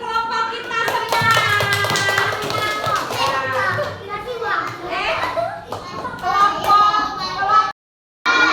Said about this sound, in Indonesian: kita tepuk tangan untuk masing-masing kelompok kita semua